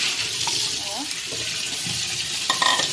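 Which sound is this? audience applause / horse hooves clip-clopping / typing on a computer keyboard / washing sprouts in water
washing sprouts in water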